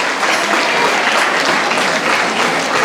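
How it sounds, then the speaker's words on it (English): Steady, dense applause from a sizable audience at a teachers' awards event, loud and continuous for the whole stretch with no voices standing out. "Can we have a big round of applause, please?"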